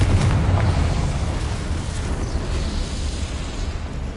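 A Confringo fire spell explodes in the video game Hogwarts Legacy: a loud low boom at the start that spreads into a dense, rumbling roar as it fades.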